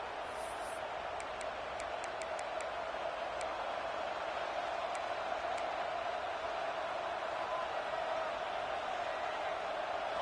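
A football stadium crowd in a Waterboy video game roars as a steady, loud wash of noise across the whole clip, with a few faint high whistle-like chirps near the start.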